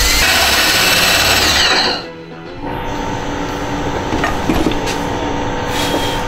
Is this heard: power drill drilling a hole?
yes